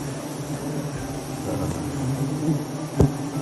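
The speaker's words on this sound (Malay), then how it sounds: "Dan ini adalah lebah liar yang tak boleh dijinakkan, berbeza dengan lebah lain." Wild tualang honey bees buzzing around a tree in the forest, a steady close drone with a brief sharp knock near the end.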